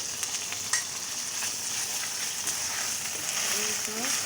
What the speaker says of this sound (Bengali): পোস্ত বাটা, আদা বাটা দিয়ে দিলাম। এবার ভালোভাবে কষিয়ে নেব।